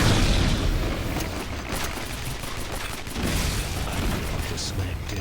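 Side guns fire without pause in the video game Duke Nukem Alien Armageddon, a dense wash of rapid blasts and booms that continues throughout under occasional talk.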